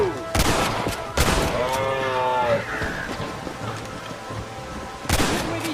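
Several sharp gunshots crack out in Red Dead Redemption, spaced seconds apart, between loud lowing from cattle in an outdoor scene with no talk.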